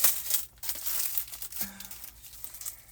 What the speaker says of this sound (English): let's go ahead and cut into the next one